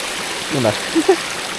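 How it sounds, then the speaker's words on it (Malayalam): A waterfall in the rice terraces near Buscalan village in the Philippines gives a steady, soft rushing wash, while a couple of brief voices speak over it. "പക്ഷേ ഇവിടെ ഇങ്ങനെ ഒരു വെള്ളച്ചാട്ടം ഉള്ളതാണ്"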